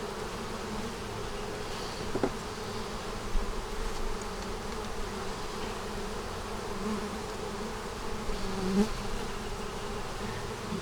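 Bees buzz around a feeder, a continuous soft hum of many insects at low level, with occasional individual bees droning closer for a moment.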